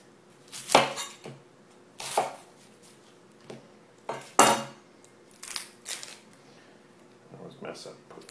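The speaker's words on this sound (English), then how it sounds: "Always mess up where you cut the onion" A knife chops onion on a cutting board for an omelet, giving about seven crisp, separate knocks spaced unevenly and close by, with a voice heard faintly between strokes.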